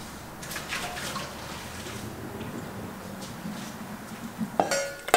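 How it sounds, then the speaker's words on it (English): Water poured from a Salad Master cooking pot after steaming potatoes gives a steady low splashing wash for several seconds, with a few metallic clinks of the pot near the end. "So this water, I'll just pour it out."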